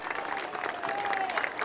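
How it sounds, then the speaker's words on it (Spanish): A crowd gathered outside Almudena Cathedral in Madrid applauds steadily as the king and queen arrive for a funeral mass, dense clapping with a faint whistle rising over it. "La gente que se agolpa aquí aplaude a sus majestades los reyes"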